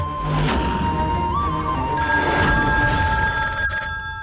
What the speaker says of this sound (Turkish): Sen aç telefonu.